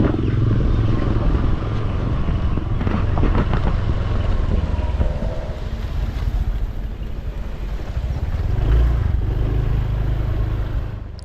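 A motorbike rides along on the way to a petrol station, its engine droning steadily and loud throughout, mixed with heavy wind rush against the microphone and a few shifts in engine pitch.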